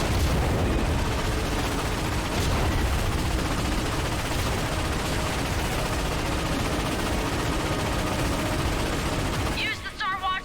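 Cannon fire against warships in a Ratchet and Clank game makes dense, continuous booming, rapid blasts and explosions, loud and unbroken for about ten seconds, ending with a brief electronic chirp.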